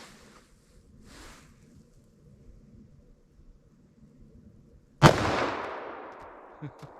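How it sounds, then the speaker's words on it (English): A single loud .44 Magnum anti-personnel round fired into ballistic gel, a sharp close blast after several quiet seconds of faint talk, followed by a long decaying echo. "Let's see how this 44 mag does."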